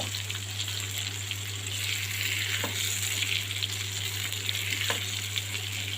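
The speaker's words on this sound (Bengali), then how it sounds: "যদি কোথাও একটু কম ভাজা থাকে সেটাও আমি ভেজে নিব" Magur catfish deep-frying in hot oil, a steady loud crackling sizzle running throughout, with a couple of soft clinks as the pieces are turned; no voices.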